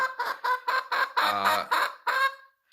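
An onagadori hen clucks close up in a quick run of about eight loud, nasal calls, the middle ones drawn out and rougher, with no voices.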